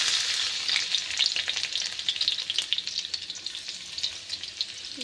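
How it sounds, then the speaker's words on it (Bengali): Garlic frying in oil as a tempering for a fenugreek and potato curry, a fairly faint, steady hissing sizzle with light crackles and occasional stirring sounds. "তো আমি রসুন দিয়ে দেবো ফোড়ন দিয়ে"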